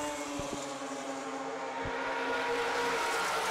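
Mazda RX7 race car, number 75, rolling through the pit lane, a steady engine drone with a faint passing swell and light thumps, heard from some distance and fairly quiet.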